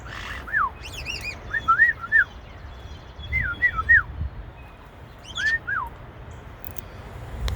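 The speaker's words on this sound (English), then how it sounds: "that's our first checkup on the parrots that are outside currently" Parrots in an outdoor aviary give repeated short whistled chirps and calls in scattered bursts, moderately near over a soft background hush, with no talking.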